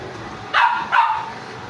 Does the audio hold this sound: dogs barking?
yes